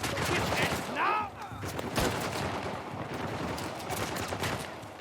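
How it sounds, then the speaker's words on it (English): Rapid gunfire from several enemies in the video game Uncharted: The Lost Legacy, dense overlapping bursts of shots throughout, with faint game voices mixed in. "There is no way with that amount of dudes shooting at me."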